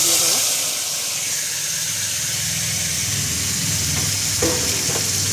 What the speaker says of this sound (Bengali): দিয়ে মশলাটা ভালো করে কষবো যতক্ষণ না মশলার কাঁচা গন্ধটা কেটে যাচ্ছে।